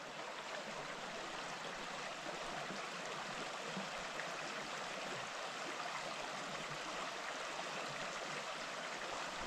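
A mountain creek flows continuously with an even rushing, babbling sound, steady and fairly quiet, with no voices.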